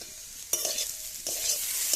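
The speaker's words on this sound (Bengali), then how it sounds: "এই যে সিম ধনেপাতা দিয়ে ভাজা করছি" Broad beans with coriander leaves sizzle and crackle in a hot pan over a wood fire, with scraping stirs at intervals that make the frying hiss surge louder; no one speaks.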